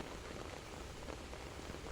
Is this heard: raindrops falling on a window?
yes